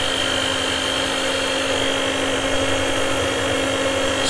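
An electric mixer runs continuously while mixing pancake batter, giving a steady, fairly loud motor hum with a whining tone that stays even throughout and has no talking over it.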